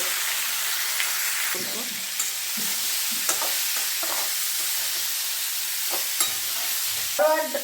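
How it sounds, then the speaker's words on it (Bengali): Eggplant and other vegetables salted and frying in a pan for sambar give a steady close sizzle, broken now and then by the clunk and scrape of stirring. "এবার আমি সবজিগুলোকে একটু ভেজে নেব।"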